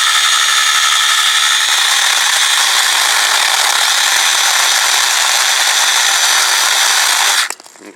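A KIMO cordless 6 inch mini chainsaw cuts through a branch with a loud, continuous high-pitched whine for about seven seconds, then stops abruptly.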